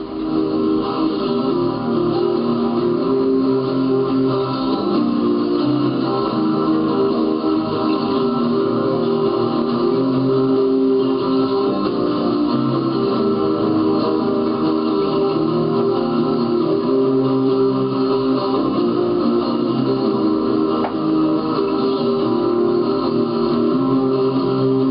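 A dense rock track of layered distorted guitars plays continuously at steady loudness, sounding slightly muffled as it plays through studio monitors.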